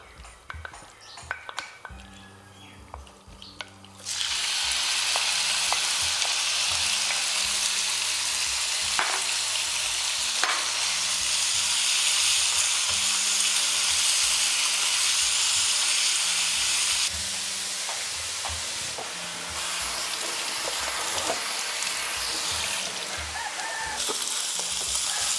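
Meat frying and being sautéed in a hot pan, quiet at first, then a loud, steady sizzle starts suddenly and holds with occasional stirring scrapes, easing slightly late on, with faint talk underneath.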